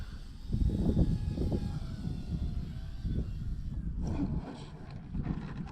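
OMP Hobby Super Decathlon RC model airplane motor in flight outdoors, a buzzing drone that rises and fades with wind noise, moderately close, and cuts back briefly near the end.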